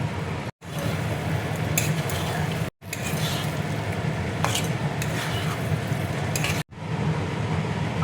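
Potatoes going into a pan of frying mutton masala, a dense steady sizzle with stirring and utensil clatter, interrupted by a few abrupt brief silences.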